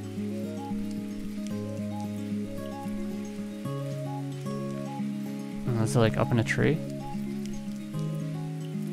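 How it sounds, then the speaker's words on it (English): Rain falls in the video game Sumire, a soft, steady patter beneath sustained musical tones, with a brief spoken voice in the middle. "Never realized the sound of rain could be so beautiful."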